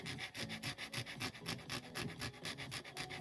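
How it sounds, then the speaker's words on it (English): An X-Acto knife blade scrapes dried spilled coffee off a watercolor painting, a quick run of evenly spaced rasping strokes, close and fairly loud, with nothing else heard. "one way I can do it is with an X-Acto knife blade and just scrape it down"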